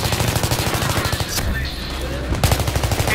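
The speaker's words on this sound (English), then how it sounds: "when you're getting fired on, things go blurry" Gunfire in the video game Battlefield 3, rapid machine-gun bursts with a sharp rhythmic rattle, close and loud, briefly dropping out mid-way before firing resumes.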